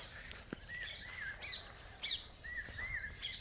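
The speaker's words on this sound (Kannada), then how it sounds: "ನವಿಲುಗಳೆಲ್ಲ ಕರಿತಾ ಇದ್ದಾವೆ." Peacocks calling in a village mango orchard: scattered short chirping calls rise and fall over a quiet outdoor background, fairly faint and distant, with no talking.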